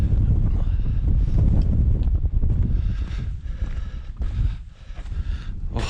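Strong mountain wind batters the microphone on a Glencoe summit, a loud, continuous low roar with gusty surges and no voices.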